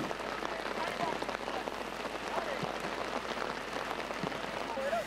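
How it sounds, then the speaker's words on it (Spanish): Steady rain falls in Cartagena, Spain, a dense continuous patter hissing over surfaces at an even level throughout, with no voices breaking through. "En Cartagena tampoco se han escapado de, la lluvia."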